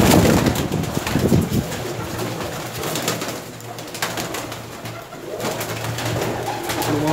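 Rare-breed pigeons coo softly and repeatedly nearby in an enclosed area, low murmuring calls over a steady background hum, with no talking.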